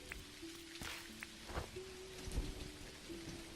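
Rain falls steadily in the video game Dinkum, a soft continuous patter with occasional heavier drops and faint tonal game sounds underneath.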